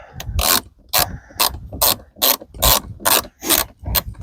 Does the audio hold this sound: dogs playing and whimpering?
no